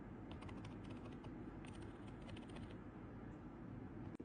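Typing on a cheap Magegee RGB membrane keyboard: a steady stream of soft, muffled key presses at close range over a constant background hum, with no voices.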